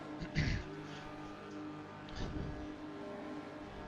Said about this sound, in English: Race starts, I get a fantastic launch, immediately leap forward 2 places